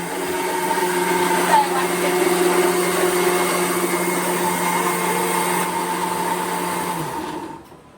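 A mixer grinder whirs loud and steady as it grinds black masala for a mutton dish, the motor holding a constant whine before winding down and cutting off near the end.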